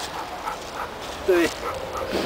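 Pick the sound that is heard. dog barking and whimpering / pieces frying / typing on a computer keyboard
dog barking and whimpering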